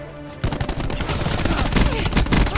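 Rapid gunfire in a shooter video game on the Hacienda map, a dense burst of loud repeated shots that starts after a brief quiet lead-in and keeps going with no clear break.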